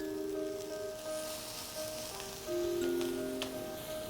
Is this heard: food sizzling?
yes